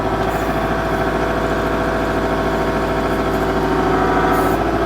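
A heavy Kubota L47 tractor-loader-backhoe engine runs steadily at a low, throbbing idle, loud and close, without any change in pace.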